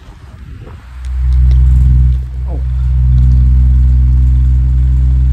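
A Comfort Zone 16-inch wall fan switched to high with oscillation stopped, giving a loud, steady low motor hum and whooshing airflow that swells up after a brief quieter start and holds constant.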